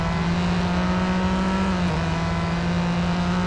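Ford GT engine driving in the mobile racing game Real Racing 3, a loud steady drone held at constant pitch with smooth cruising hum, no talk over it.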